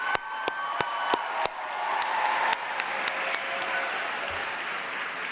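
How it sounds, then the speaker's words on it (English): An awards-ceremony crowd at the 2023 Silver Knight Awards breaks into loud, sustained applause, with sharp individual claps and a few whistles standing out from the dense clapping. "Let's give a big round of applause for all of our nominees and guests tonight."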